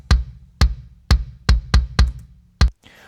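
Kick drum recorded with inside and outside microphones blended, pop punk style: seven punchy, booming hits with sharp clicky attacks and a little ring, spaced irregularly and up close, with no talk.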